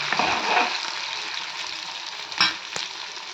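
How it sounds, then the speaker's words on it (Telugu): Fenugreek seeds fry in hot oil in a pan for an old-style tangy curry, a close sizzling hiss broken by a few sharp scrapes and clatters from stirring. "చూసారా, మెంతులు వేగిపోయా."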